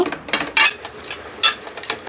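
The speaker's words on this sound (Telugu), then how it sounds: "ఉడికే కదా ఇవి కొంచెం స్మాష్ చేసుకుందాం" Metal utensil mashing cooked vegetables, scraping and tapping against a pressure cooker in a few irregular strokes, close and fairly loud, with no talking.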